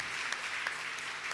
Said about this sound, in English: Let's give the Lord a big round of applause.